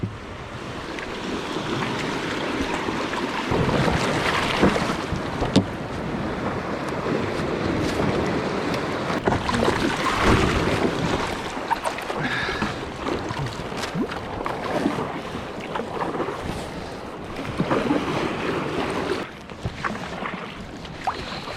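Ocean waves and surf breaking around a stand-up paddle board crossing through the breakers while fishing, a continuous loud wash of water with heavy wind buffeting the microphone.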